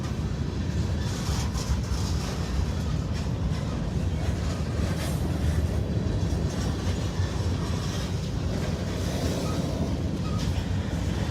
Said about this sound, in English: here comes the end of our train